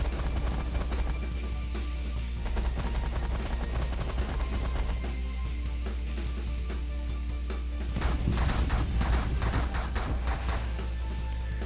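Ship guns on auto fire in the space strategy game The Last Federation, a steady, dense barrage of rapid gunfire and crashing impacts over a constant low hum, continuing for the whole stretch without talk.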